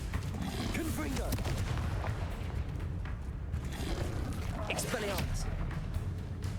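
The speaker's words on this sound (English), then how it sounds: "Confringo!" Spell blasts and fiery booms burst repeatedly amid constant rumbling combat effects in the video game Hogwarts Legacy, with a voice shouting spell names over the clamor.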